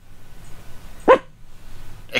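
Inside an RV, one of three dogs lets out a single sharp bark, and another bark starts just at the end, loud and close against a quiet room.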